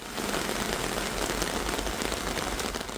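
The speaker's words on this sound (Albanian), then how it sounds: "Shiu i orëve të fundit është ndëroi Durrësin në një pishinë gjigande." Heavy rain pours during floods in Durrës, a dense, even roar of drops beating on surfaces, loud and continuous with no voices.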